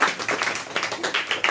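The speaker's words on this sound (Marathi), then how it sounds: "एकदा टाळ्या वाजवा बरं याच्यासाठी" A schoolroom of students claps together for a classmate during a maths lesson, a brisk, dense round of hand claps lasting under two seconds, close and fairly loud, with no talking.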